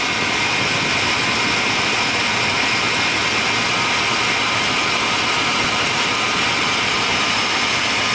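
Chevy Silverado engine running steadily at idle just after starting, a constant broadband drone with a broad hiss, continuous and fairly close, no speech.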